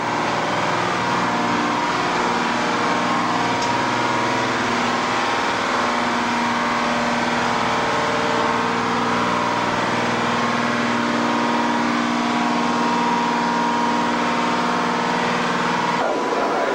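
Engines running in a tugboat engine room give a loud, steady mechanical roar with deep humming tones, close by and constant, with a brief clank near the end.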